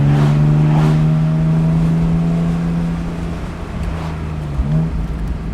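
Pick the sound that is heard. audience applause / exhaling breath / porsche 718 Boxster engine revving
porsche 718 Boxster engine revving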